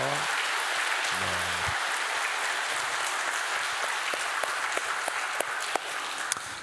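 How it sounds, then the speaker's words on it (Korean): A church congregation at Sunday worship applauds in a large hall, a broad, steady wash of clapping with occasional sharper individual claps standing out, sustained for several seconds at a moderate level. "우리 한번 박수 한번 크게 하나님 감동 받으시도록"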